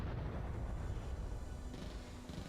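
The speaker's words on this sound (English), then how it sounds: "You hear gunfire, explosions, even if you're not there, from way over there" In a video game, continuous gunfire and explosions roll together into a dense, rumbling wall of battle noise that holds steady throughout with no clear pauses.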